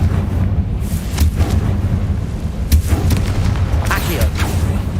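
A fire-blast spell erupts over and over in the Hogwarts Legacy video game, heavy booming bursts layered on a dense, constant rumble of game effects, with a voice shouting now and then.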